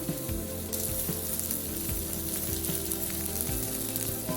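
A vegan burger patty sizzles steadily in a hot pan, a continuous dense crackle of frying with occasional scraping taps, close and fairly loud with no voices.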